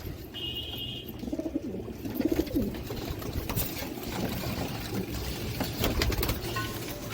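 Pigeons of fancy breeds cooing in soft, repeated low calls, heard amid steady outdoor background noise, with no one speaking.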